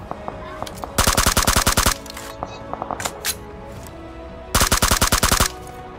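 Rapid automatic gunfire in a battle royale shooter in a Conqueror-rank lobby: two loud bursts of closely spaced shots, the first about a second long and the second near the end, with a few scattered single shots between them.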